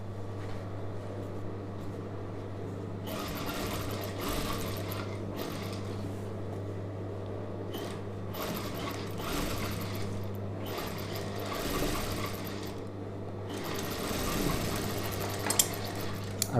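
An Usha sewing machine stitching a star-neck chudidhar, its motor humming steadily while the needle mechanism runs in fairly constant bursts and pauses, close and alone without talk.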